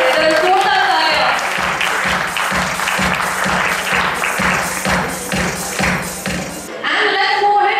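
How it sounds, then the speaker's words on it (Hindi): An audience at a knee replacement surgery celebration event gives loud applause with a strong rhythmic thumping beat of clapping in unison that continues for about seven seconds and then ends abruptly. "जरा जोरदार तालियां।"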